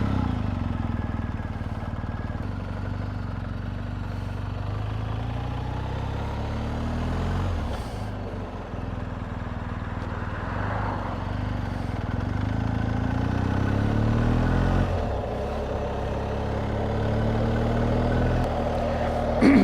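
A 2019 BMW R1250GSA boxer-engine motorcycle under way, its steady, loud engine drone and wind rush continuous throughout, with brief dips and rises as the rider shifts gears.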